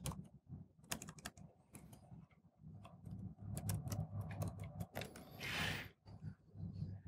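Fingers tap a computer keyboard in quick, irregular bursts of close, crisp clicks, quiet overall with short pauses between runs of keystrokes.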